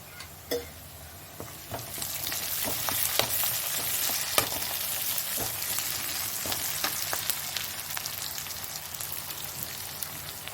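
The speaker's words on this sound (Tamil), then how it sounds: "வெங்காயம் நல்லா பொன்னிறமாக வதங்கி வரணும். இதில் ஒரு கைப்பிடி அளவு கருவேப்பிலை சேர்த்துடலாம்." Sliced onions and a handful of curry leaves frying in oil in a pan for pepper chicken, a steady close sizzle dotted with sharp pops and crackles throughout.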